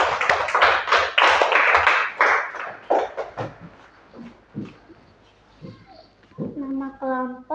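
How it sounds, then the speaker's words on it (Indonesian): Applause for the first group in a classroom: a burst of clapping from pupils that fades out, followed by children's voices. "Beri aplaus untuk kelompok 1."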